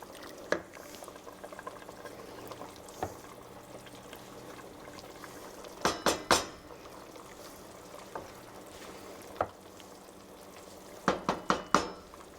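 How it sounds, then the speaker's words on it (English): Chicken paprikash sauce simmering in a pot on low heat gives a faint, steady bubbling hiss, broken by a few sharp clicks and taps, including a cluster near the end. "So if you can see, it's come to a boil."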